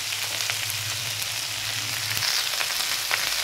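Potatoes fry in a pan with a steady, bright sizzle that continues throughout. A low hum sits beneath it for the first two seconds, and there is no talking.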